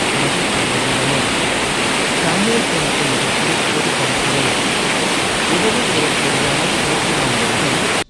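Water gushing from the Palar-Porunthalar dam near Palani as it is opened for irrigation, a loud, steady broadband roar that holds constant throughout.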